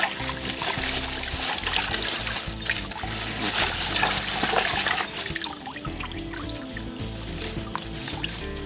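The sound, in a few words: rinsing a tie-dyed T-shirt with plain water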